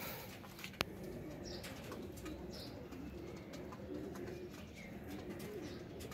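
Pigeons coo softly in a loft, repeated low burbling calls over light background noise, with one sharp click near the start and no talk.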